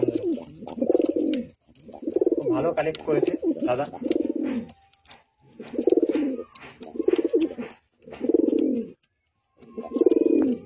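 Pigeons coo in a loft holding pairs of Fulshira (flower-headed) pigeons, soft rolling calls coming in repeated bursts close by, mixed with someone talking.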